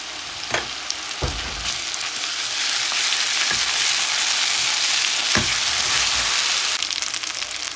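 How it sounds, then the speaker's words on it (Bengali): Onions sizzle loudly in a pan with ginger garlic paste, a dense, continuous frying hiss broken by occasional stirring clicks, with no voices. "পেঁয়াজটা এই যে ভেজে নেওয়া হয়ে গেছে, একটু লাল লাল হয়ে আসছে, এখন আমি দিয়ে দেবো এখানে আদা রসুনের পেস্ট।"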